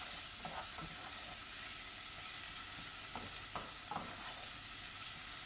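Onions fry with cumin in a pan for palak paneer, a steady bright sizzle throughout with a few soft scraping stirs of a utensil, close and moderately quiet, no voices.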